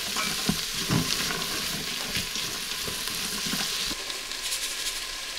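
Carrots and onion sauté in a pot with a steady, close sizzle and frying hiss, broken by a few soft thumps from stirring, and no one speaks.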